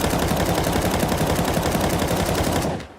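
Sustained automatic gunfire from Counter-Strike 2, a dense, loud, continuous burst of rapid shots lasting about three seconds before cutting off abruptly.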